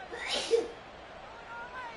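One short, sharp sneeze bursts out close by in a quiet broadcast booth during a football game, then dies away into faint room tone.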